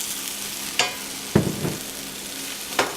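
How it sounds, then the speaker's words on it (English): Mushrooms sautéing in a pan with a splash of white wine give a steady low sizzle, broken by a few sharp scrapes and clatters as a utensil stirs them, with no talking. "when I'm sauteing the mushrooms, I like to add just a little white wine in there"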